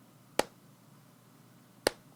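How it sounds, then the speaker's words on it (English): Two sharp, isolated hand claps spaced about a second and a half apart, crisp and fairly close, with only quiet room background between them. "What'd you clap it for, bruh?"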